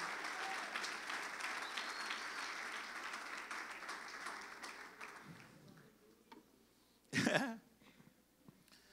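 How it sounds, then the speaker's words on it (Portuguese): A church congregation claps in sustained applause that fades out, followed by a brief loud burst of noise, with faint voices underneath. "Dê um aplauso ao Senhor se você é, em nome do Senhor Jesus"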